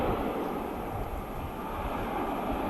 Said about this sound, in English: Fantastic sound there from the 330.